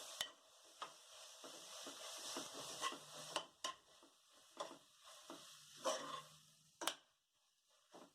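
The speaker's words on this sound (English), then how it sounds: "Now mix it all the ingredients well." Vegetarian amaranthus and fenugreek biryani ingredients being stirred in a pot with a spoon, giving soft scraping and rubbing strokes with faint sizzling, a few sharper knocks against the pot, no talk.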